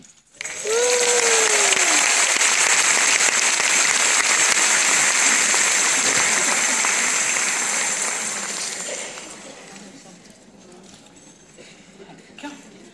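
An audience applauding a PartyLite autumn candle display, a dense steady wash of clapping that starts abruptly, holds strong for several seconds, then dies away into quieter room sound with a few scattered claps.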